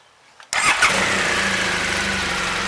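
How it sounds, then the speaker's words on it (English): A motorcycle engine starts up in neutral, firing with a sharp burst after brief quiet and settling straight into a loud, steady idle close by. "so let's get the bike on and neutral, get it started"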